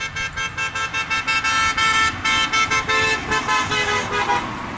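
A passing car sounds its horn near a dog park in a rapid series of loud, bright, pulsing toots that blur into a sustained blare before trailing off.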